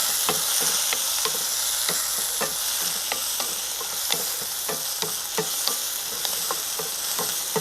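Crushed small onions crackle and spit in hot oil with green chilli for a water apple coconut chutney, a steady sizzle broken by frequent sharp pops spread throughout, close and loud.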